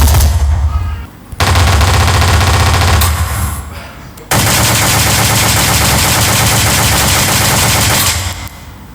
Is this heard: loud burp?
no